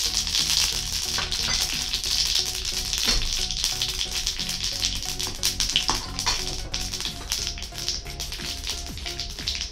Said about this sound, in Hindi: ऑयल गर्म हो गया है, 1 चम्मच राई डाल देते हैं,